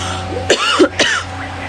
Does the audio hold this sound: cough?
yes